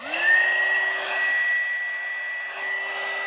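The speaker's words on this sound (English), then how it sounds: "Turn this on and watch that heat shrink shrink down." A heat gun shrinks heat shrink tubing on a blower motor wire, giving a steady, close whining blow with a high tone that holds constant throughout.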